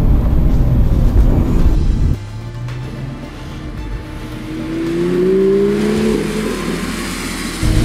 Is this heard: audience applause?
no